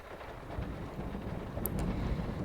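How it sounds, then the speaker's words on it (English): Rain pours during a thunderstorm while sitting in a car, a dense, steady rush with a deep low rumble beneath, close and constant with no voices. "I want you to focus on my voice and the sound of the rain."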